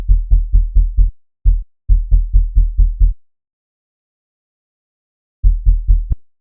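Serum synth bass with filter cutoff modulation, deep plucked notes in quick repeating groups that pulse and decay, then a long pause before another short run, loud and alone.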